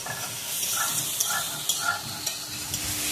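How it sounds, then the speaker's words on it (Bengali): Ridge gourd slices frying in oil in a pan, a steady close sizzle with occasional stirring scrapes and soft clicks of a utensil, no talking. "সেই জন্য ঝিঙেটা আলাদা ভেজে নিচ্ছি।"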